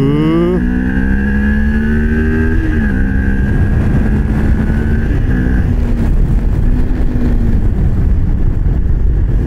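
Motorcycle engine under way in second gear, a loud droning tone that climbs and shifts as it pulls through the gear, with road and wind noise beneath.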